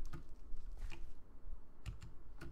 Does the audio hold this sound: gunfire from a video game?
no